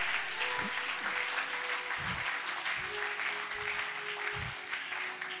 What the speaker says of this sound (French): J'entends un peuple acclamer Jésus.